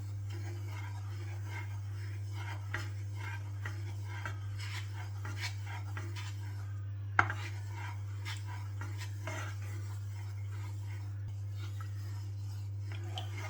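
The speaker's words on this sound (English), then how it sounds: "just give it a good stir constantly" A spoon stirs gluten-free vegan custard in a pot with soft, faint scraping and rubbing against a steady low hum, plus one sharper clink near the middle.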